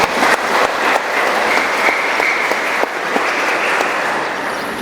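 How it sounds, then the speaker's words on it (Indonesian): Congregation applause during a Sunday morning worship service at GKI Betania Wasior church, a steady, dense wash of clapping from many people that fills the whole stretch without a break. "Mari kita beri tepuk tangan."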